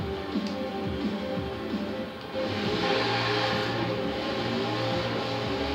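A car engine in Forza Horizon 4 drones steadily at sustained high revs, loud and continuous, rising slightly in intensity partway through with no talk over it.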